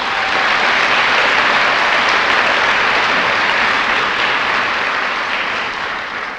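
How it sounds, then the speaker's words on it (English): A large convocation audience at a college graduation ceremony applauds the graduates' families, producing a loud, sustained roar of clapping that fades slightly at the very end. "Let's give a round of applause to our most devoted fan base."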